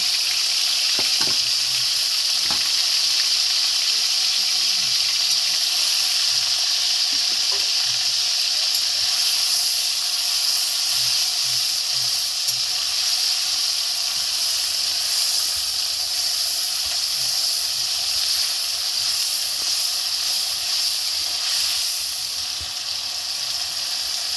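Ginger, garlic and onion paste with two green chillies frying in a pot for Kashmiri aloo dum, a long steady hissing sizzle with occasional stirring knocks, close and even throughout.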